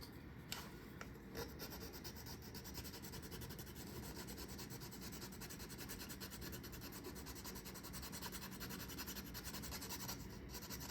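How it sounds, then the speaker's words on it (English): A metal hand file rasps across a workpiece in a quiet shop, producing soft, continuous back-and-forth scraping strokes that are faint and close, with no talk. "Here's a file, a metal file."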